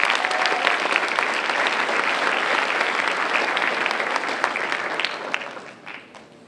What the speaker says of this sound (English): Make sure we're giving our parents and guardians a huge round of applause.